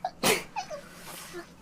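One short, sharp sneeze bursts out near the start, followed by faint breathy traces and soft vocal sounds at low level.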